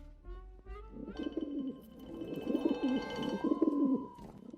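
A pigeon coos in soft, throaty, rolling murmurs, close and fairly loud, repeating over several seconds.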